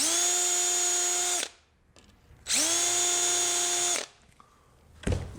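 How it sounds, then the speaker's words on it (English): A power drill whines loudly in two long bursts while drilling holes, each spinning up and holding steady, separated by a short pause with faint clicks. "grab my drill bit, which is now properly sized, and I run my holes"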